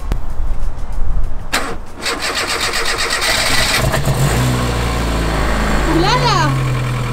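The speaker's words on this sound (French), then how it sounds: "Donc on va démarrer la voiture, on va écouter comment elle démarre." A car with a Rover K engine running on E85 ethanol cranks and fires up nearby, then settles into a steady idle with a rising and falling whine, after some handling noise at the start.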